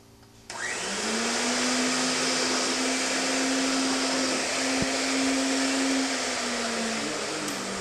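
A threading machine reaming the end of a pipe: a motor starts abruptly and settles into a loud, steady whirring drone with a sustained tone, running continuously with a brief click partway through and easing slightly near the end.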